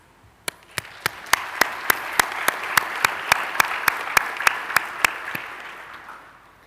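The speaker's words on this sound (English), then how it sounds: "Please join me in applauding and paying tribute to our" A graduation ceremony audience applauds the graduates with a steady wash of clapping. Sharp, evenly spaced claps ring out above it, and the sound slowly fades at the end.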